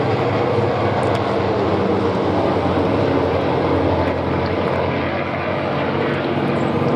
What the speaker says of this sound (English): While 3 Hawker biplanes arrived from the right.